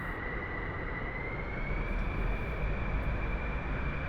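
Engines of a B-2 Spirit bomber at full throttle in the DCS World flight sim, a steady broadband roar with a thin, slightly rising whine held continuously at moderate level, no voices.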